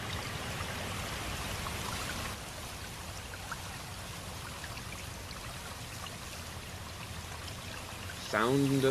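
Rain sound effects from a Pokémon Omega Ruby & Alpha Sapphire soundtrack song play as a steady watery hiss, louder for the first couple of seconds, then softer, before a short burst of musical tones near the end.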